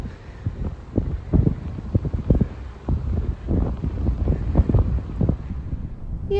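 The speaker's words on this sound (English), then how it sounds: "the wind just keeps picking up" Strong winter wind blows outdoors in Scotland on a dry sunny day in country parkland, gusting in uneven bursts of rumbling buffeting across the microphone, loud and close throughout with no voices.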